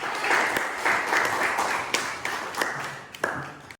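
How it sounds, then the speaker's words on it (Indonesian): Short burst of applause from students in a classroom, clapping strongest at first then thinning into a few scattered, sharp claps as it fades out. "Tepuk tangan bagi kita semua."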